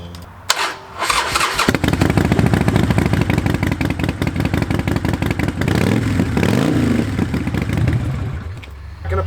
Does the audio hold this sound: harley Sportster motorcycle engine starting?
yes